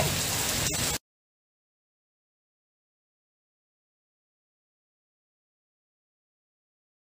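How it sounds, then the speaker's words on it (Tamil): Rain falling on a rainy day at home: a dense, steady hiss of drops for about a second, then abrupt silence. "என் வீட்டுக்காரர் வந்து சூப்பராக மழையை ரசிச்சுட்டு இருக்காரு"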